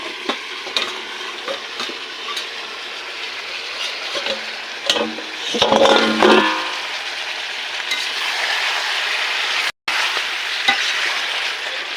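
Meat browning slowly over low heat in a pan, a steady dense sizzle with scraping stirs and clatters bunching up midway, one brief dropout near the end, no voices.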